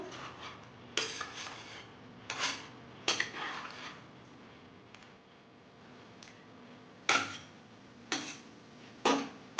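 Metal lid set onto a cooking pot of Bengali yogurt chicken with added water, giving several sharp clanks and clinks at irregular intervals, close and fairly quiet, with no talking.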